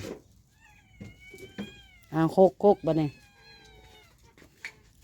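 A cat meows three times in a row, fairly close and clear, while a person talks quietly nearby.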